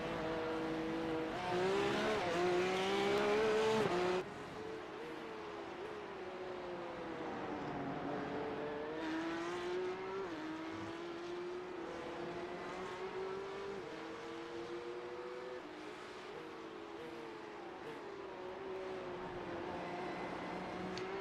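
Race cars in a sim racing series event at Sebring drone continuously, engines rising and falling through gear changes at moderate distance, one nearer car loud at first before fading into a steadier mix, with no voices.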